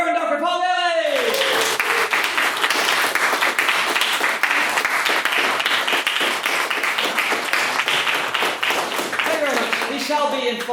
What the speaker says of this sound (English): Can we please have a warm round of applause for our newest member of the Trust, the Reverend Dr. Paul Bailey?